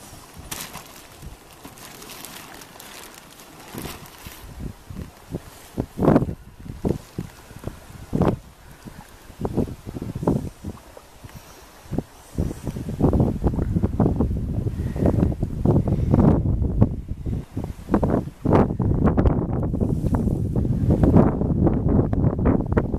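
Wind buffets a Klepper folding sailboat out on the water, a steady roaring gust with rustling and flapping bursts that grow louder and denser in the second half.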